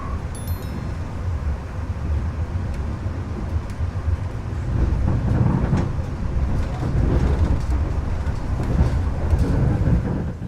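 An Argo Wilis passenger train on the Surabaya–Bandung line rumbles steadily, with a low, continuous roar that swells midway and a few faint higher squeals and clanks near the start.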